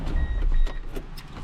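A 2004 Toyota Tundra's 4.7L V8 idles steadily after a new serpentine belt is fitted, a close low rumble with no chirp or squeal and a faint high whine riding above it.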